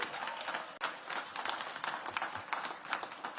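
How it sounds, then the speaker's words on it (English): Audience applause at a back-to-school event for DC public schools, with dense continuous clapping from a crowd filling the space, steady and fairly loud throughout with a brief dip near the start. "Give them a big round of applause."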